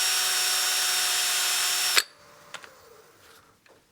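A power tool whines steadily while sanding the rim of a wooden platter with 320-grit paper, then cuts off abruptly about halfway, leaving a few faint knocks and handling sounds.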